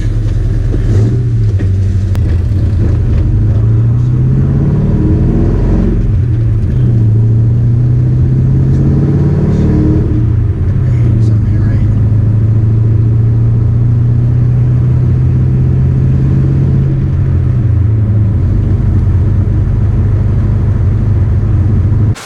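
A Ford Mustang fitted with MSD coils revving while driving, its engine misfiring; a loud close rumbling drone with rising and falling revs over about twenty seconds, no talk.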